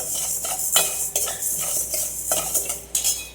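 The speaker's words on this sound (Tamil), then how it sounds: "ஒரு பாத்திரத்தில் கொட்டி பொன்னிறமாக வறுத்துக்கணும் நல்லா மனம் வரணும் அந்த பச்சை பயிறு மனம் வரணும்" A utensil repeatedly scrapes and stirs green gram as it dry-roasts in a pan over high flame, making a steady rhythm of loud, close rattling strokes with no voices.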